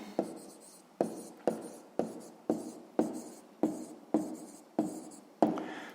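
Pen strokes on paper as a math answer is written down, about ten short even scratches in a steady rhythm, close and quiet, with no talking.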